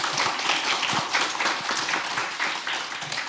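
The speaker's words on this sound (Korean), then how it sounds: "오랜 시간 동안 그 발표하시느라고 고생해 주신 우리 단장님들께 박수 한번 부탁드립니다." An audience at an academic conference applauds the presenters after a session, a dense, sustained round of clapping from a crowded hall, with no one talking over it.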